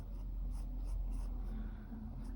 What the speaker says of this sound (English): go with a finer nib pen for the features